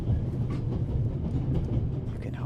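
A runaway steam train in The Raven Remastered video game, a loud continuous rumble and rattle of the moving train with steady rolling clatter throughout.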